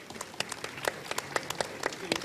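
Scattered applause rises from a small audience at an international law conference panel in Colombia, with uneven, sparse claps that sound moderately near.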